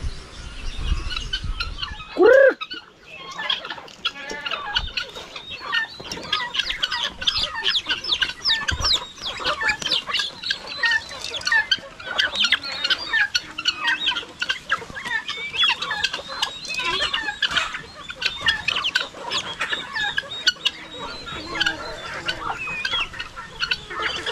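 A flock of chickens clucks continuously nearby, many overlapping calls, with a single loud squawk near the start.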